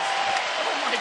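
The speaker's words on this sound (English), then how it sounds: "this crowd is crazy" A UFC arena crowd roars and cheers during the Thiago Santos vs Jimi Manuwa fight, a dense, continuous wall of loud crowd noise with applause mixed in.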